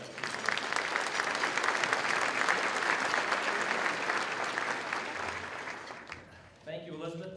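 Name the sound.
audience applause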